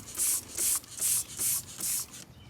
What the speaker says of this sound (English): I'm gonna spray it on the tires, see if it cleans it up